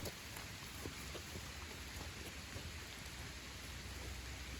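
Rain pouring down on a farm, a steady, dense hiss of falling drops spattering on surfaces, close and continuous with no talking.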